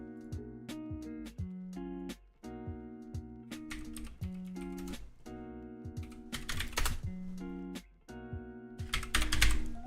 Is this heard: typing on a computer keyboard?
yes